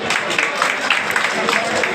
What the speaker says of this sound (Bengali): বদিউল আলম খোকনের জন্য জোরে একটা হাততালি হবে